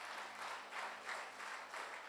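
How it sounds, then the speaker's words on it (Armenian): A church congregation applauds in a faint, distant, reverberant wash of clapping that swells in a few pulses. "Եկեք ծափարենք Տիրոջը։"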